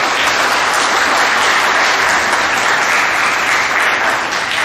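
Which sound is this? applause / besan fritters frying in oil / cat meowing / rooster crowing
applause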